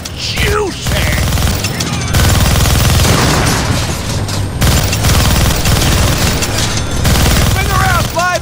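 Gunfire in the Deadpool video game, dense rapid automatic shooting and booms continuing loud for the whole stretch, with brief sweeping tones and game voices mixed in.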